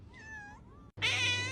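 A cat gives two meows in quick succession. The first is moderate and the second is louder and strained, over a steady low electrical hum.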